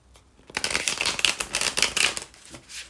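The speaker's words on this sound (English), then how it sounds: "So I'm going to shuffle these once." A deck of tarot-style cards is shuffled once up close, giving a dense, continuous riffling flutter of about two seconds that starts abruptly and fades, with no talking over it.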